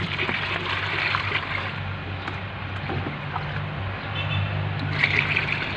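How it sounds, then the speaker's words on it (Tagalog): Water poured from a container onto a potted bougainvillea plant, about three liters, a steady trickling and splashing flow running continuously at close range with no voices. "nalagyan natin ng 3 litro na tubig ito"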